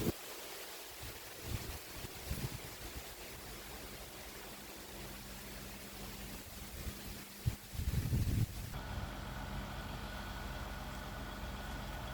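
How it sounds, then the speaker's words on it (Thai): Strong wind buffeting the microphone beside a shrimp pond with a lift net, loud gusty roaring throughout, with rumbling bursts near the end and no talking. "ตอนนี้ลมค่อนข้างแรงนะครับ"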